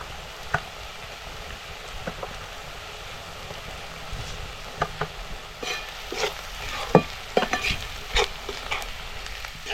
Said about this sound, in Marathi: मसाले सगळे मिक्स करून झाले की आता आपल्याला ह्याच्यात अंडी टाकायची आहेत.